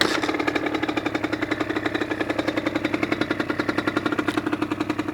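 A Yamaha DT50 motorcycle engine running close by, a steady rapid two-stroke putter with a fast, even pulsing rhythm that stays loud throughout.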